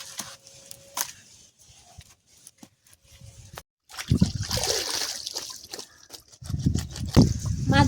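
Cut fish are washed in a basket in a village pond outdoors, with intermittent close splashes and trickling water, quiet gaps between them, then longer bursts of sloshing.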